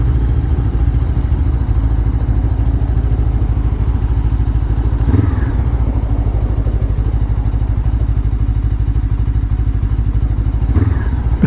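A Lifan KPT 400 motorcycle with a 43-tooth rear sprocket drones steadily while being ridden, its engine loud and close with a constant low rumble. A couple of brief clunks break the drone, and there is no speech.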